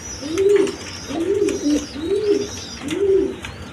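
Pigeons coo close by in four repeated, rolling calls with a steady rhythm, over a quiet background.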